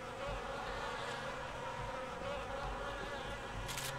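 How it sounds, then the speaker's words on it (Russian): Flies buzzing in the video game Rage, a faint, continuous insect drone with no talking over it. "Я слышу только мух."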